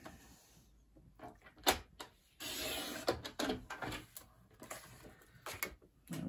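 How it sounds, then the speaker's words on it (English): A quarter inch trimmed off card stock with a paper cutter: a few short, crisp slicing and scraping bursts with thumps between quiet gaps, close and moderately loud, no talking. "I'll just chop a quarter of an inch off that"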